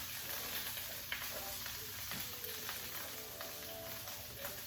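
Mushrooms and shallots sizzle in a skillet, a soft steady hiss with occasional faint crackles and light clicks, quiet and without voices.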